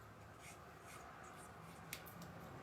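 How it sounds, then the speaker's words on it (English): Pencil sketching on thin copier paper, a faint, steady scratchy rubbing of quick strokes, close but quiet under a low room hiss. "I just kind of start sketching."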